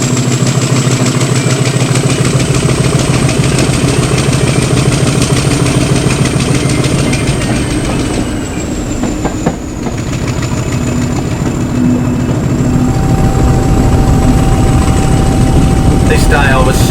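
Class 50 diesel locomotive 50021 Rodney runs with a loud, steady, close engine drone and a high whine, the sound dipping briefly midway before building again, with voices in the background.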